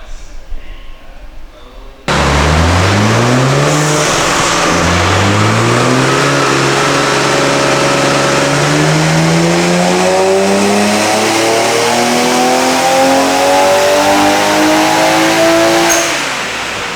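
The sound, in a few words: 1JZ Nissan Skyline engine revving on a dyno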